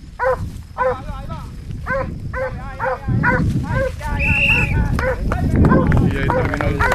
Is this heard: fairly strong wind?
no